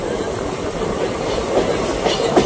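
Local train pulling into Rangjuli station, with a steady rumbling roll of wheels on track at close range and a few faint squeaks near the end.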